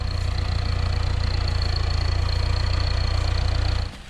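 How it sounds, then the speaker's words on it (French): A tractor engine idles steadily before haymaking on a sheep farm, a loud, constant low rumble with a faint high whine that runs for about four seconds before dropping away at the end. "le tracteur, je vous présente pas, la faucheuse non plus"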